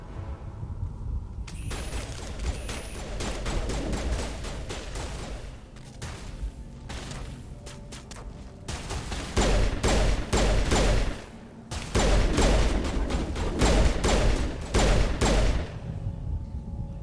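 Sustained bursts of rapid gunfire from the video game Mass Effect 1, a dense fusillade with booming impacts that swells louder in the second half, with brief lulls between volleys.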